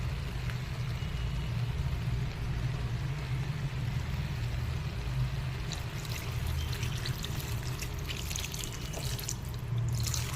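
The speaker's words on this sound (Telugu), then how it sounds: "కొంచెం వాటర్ అయితే పోసేసుకుందాం" Water pours into a pot of brinjal, tomato and drumstick curry, a soft steady trickle that runs through the whole stretch at low volume, with no voices.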